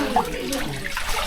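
A waterfall on a road trip to Balasore, Odisha, gives a continuous rushing wash of falling water, fairly loud and steady throughout, with a faint voice in the background.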